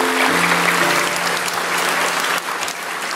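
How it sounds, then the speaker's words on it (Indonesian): A church congregation claps in loud, sustained applause that fills the room and eases off slightly toward the end, with a brief tone fading out at the start. "Yang percaya kasih tepuk tangan untuk Tuhan."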